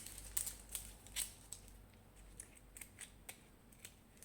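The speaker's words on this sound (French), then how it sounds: "il y a les ciseaux de point de croix pas loin, ça va faire l'affaire" Small cross-stitch scissors snipping adhesive tape, a series of short, crisp close-up snips spaced irregularly over a quiet background.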